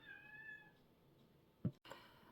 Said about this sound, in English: So if you hear meowing, that's the kittens.